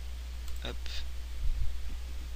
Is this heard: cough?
no